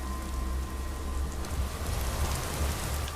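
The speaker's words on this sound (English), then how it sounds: "This rain will stop eventually. Always does." Continuous rainfall in the video game Skyrim Special Edition, a steady dense hiss of drops with a low rumbling undertone, even and unbroken throughout with no voices.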